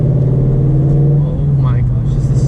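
Subaru BRZ or Toyota FRS with an unequal-length header exhaust, its engine droning loud and close with a steady low tone as it revs near a police car.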